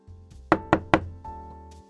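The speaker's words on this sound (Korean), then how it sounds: "떨리는 손으로 노크를 했습니다." Three sharp knocks on an office door, evenly spaced in quick succession, close and distinct against a quiet room with a faint hum.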